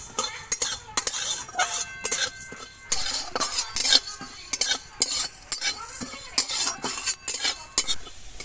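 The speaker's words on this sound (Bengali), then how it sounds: "আর দিয়ে দেব জিরে, ধনে আর মৌরি। সব কিছু আমি ভালো করে ভেজে নেব।" Cumin, coriander and fennel seeds dry-roast in a pan with cardamom, cinnamon and cloves, a spatula scraping and stirring in steady, close, irregular strokes with light metallic clinks and no voices.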